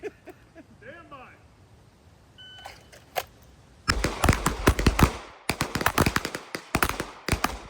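Pistol shots fired in rapid succession during a timed drill on a range, a burst of sharp, loud cracks following brief voices and a beep, with overlapping echoing bangs.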